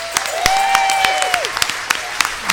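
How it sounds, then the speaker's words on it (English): Audience applause at a church service, steady clapping with sharp individual claps while a voice with a whoop or cheer rises over it. "One more applause for Dr. Christian."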